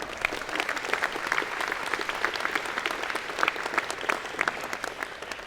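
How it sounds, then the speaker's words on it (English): A convocation audience for the College of Engineering & Computer Science applauds steadily, a dense wash of many hands clapping at moderate distance for the whole stretch, with no voices on top. "Let's give them a round of applause."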